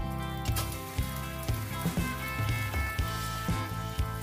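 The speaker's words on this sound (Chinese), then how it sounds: "等鸡蛋煎得比较老的时候，把它翻个面，" Beaten egg fries in a pan with sesame oil and cooking oil, a soft, steady sizzle with regular light taps and clinks of utensils recurring about twice a second, fairly quiet and close.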